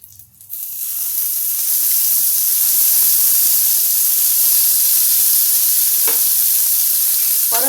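Tomatoes hit a hot pan and erupt into a loud, steady sizzle that swells within the first second and holds as a dense, close frying hiss, with a couple of brief clatters near the end.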